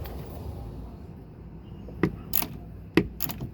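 A socket wrench works on an Onan MicroQuiet 4000 generator: two short clusters of sharp metallic clicks, fairly close, over a quiet, low background hum.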